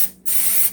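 Cooking spray hisses from a can onto eggs in an Instant Pot, two loud bursts broken by a brief gap, close and steady with no talking.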